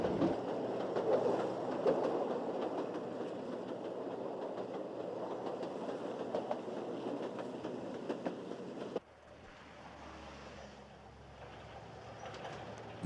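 A train on the Tua railway line rolls along steadily with rumbling wheels and rhythmic clicking, fairly loud, then drops abruptly to a quieter, muffled interior hum.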